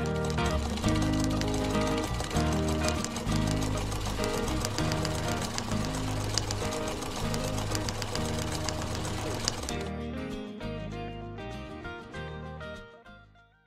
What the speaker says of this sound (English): So let's get sewing.